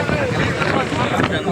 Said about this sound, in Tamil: மேலே ஜில்லுன்னு காற்று வருது.